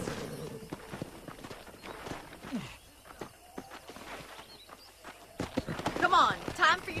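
Hooves of a horse being ridden in Red Dead Redemption on Xbox 360 clop in a steady rhythm, growing louder toward the end, with voices talking over them.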